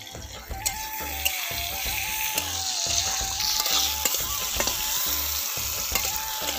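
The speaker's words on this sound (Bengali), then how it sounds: "দেখতে পেলে অল্প তেলে কত সুন্দর বেগুনটা ভাজা হয়ে গেল" Eggplant slices frying in a small amount of oil in a pan, a steady close sizzle broken by repeated stirring and scraping knocks, with no talking.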